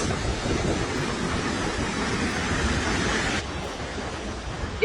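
Waves wash onto a trash-covered beach with brown water in Accra, Ghana, making a steady roar of surf mixed with wind buffeting the microphone, continuous and fairly loud.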